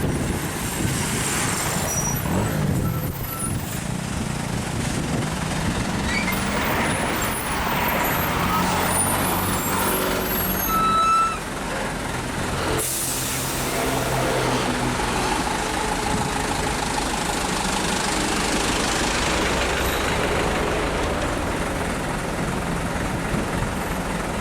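Heavy trucks rolling in a slow traffic jam on the Pantura road at Juwana, Rembang, with a steady dense rumble of diesel engines, idling and an air brake hiss, continuous and fairly loud throughout.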